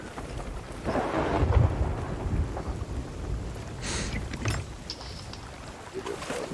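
Thunderstorm at sea in the pirate video game Sea of Thieves, with steady rain and a deep rolling thunder rumble that swells and fades under splashing water, and no talking.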